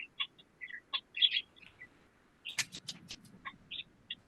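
A pet bird calls close by indoors with a run of short, high chirps and squeaks in irregular bursts, quiet overall, with a few sharper clicks toward the end.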